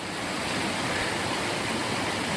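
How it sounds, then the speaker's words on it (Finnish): Flowing stream water along the Kevo Canyon hiking trail in Finnish Lapland, a loud, steady broadband rush with no pauses and no voices. "Ja ihania keidaspaikkoja, tämmöiset virtaavat vedet."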